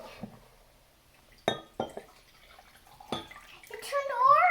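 Liquid is poured into a cup during a children's chemistry dilution activity, a short trickle near the end, after scattered clinks of glassware and someone speaking.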